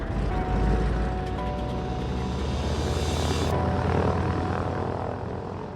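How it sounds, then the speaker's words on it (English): A float plane's propeller engine drones loudly and steadily as it takes off, a close, continuous buzzing roar that holds strong before easing slightly near the end. "that last float plane took off into the horizon"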